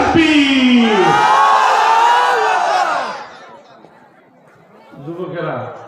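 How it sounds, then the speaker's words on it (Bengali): A crowd of married men at a religious gathering roars a loud takbir in unison, a sustained chorus of raised voices that fades into quiet before a smaller second shout rises. "আর বিবাহিতরা তাকবীর দিল"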